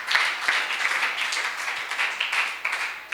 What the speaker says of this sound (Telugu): అందరూ మరొకసారి చప్పట్లు కొడదాం.